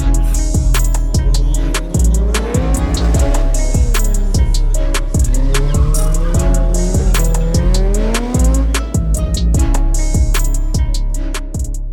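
A Toyota Corolla competing in the Philippine Autocross Championship Series: a loud, close engine revs hard through repeated gear changes, pitch rising and dropping as it accelerates and brakes, with tire squeal between the shifts.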